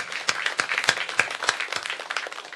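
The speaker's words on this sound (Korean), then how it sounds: "우리 주님께 감사의 박수 올려드립니다" Church congregation bursts into applause during a Thanksgiving Sunday service, a short spell of scattered, moderately loud clapping from many hands.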